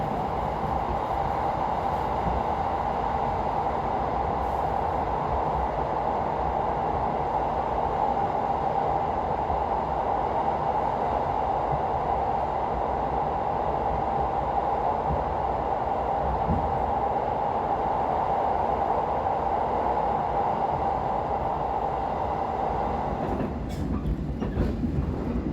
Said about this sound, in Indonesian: Segera melintasi terowongan hijau, salah satu terowongan kereta api panjang yang ada di Indonesia.